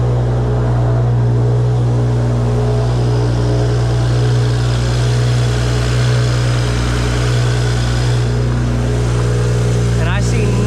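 A single-turbo BMW N54 engine in a 335i, just started and running with a loud, steady low drone and a constant rumble, heard up close and without a break.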